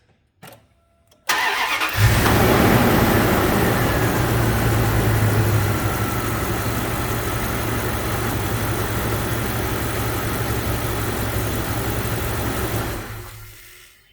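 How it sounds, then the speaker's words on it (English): Dodge Dakota 5.2L V8 engine cranking briefly and catching after a couple of clicks, then settling into a loud, steady close-up idle that runs until the engine is shut off near the end. "you want to start and run the engine so it cycles through all the parts that don't have oil in it currently"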